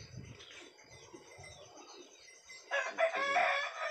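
A chicken clucks and calls close by in a rural yard. Quiet scratchy movement comes first, then a loud harmonic burst of calling fills the last second or so.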